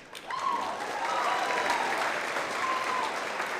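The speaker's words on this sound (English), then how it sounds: "Let's give another big round of applause." Sustained audience applause at an award show, a dense, steady wash of many hands clapping throughout, with faint overlapping voices and a whistle-like tone mixed in.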